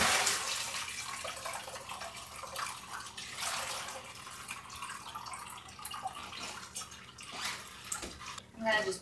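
Homemade cottage cheese poured from a pan into a colander in a sink, with a plastic container below; a close, continuous watery splashing and trickling that swells and fades over several seconds.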